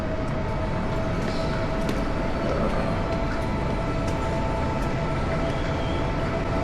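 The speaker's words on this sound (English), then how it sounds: "We're gonna be on this train for close to an hour." Inside a train on the railway, a steady loud rumble of running wheels fills the carriage, with a faint constant whine and occasional light rattles, no clear voices.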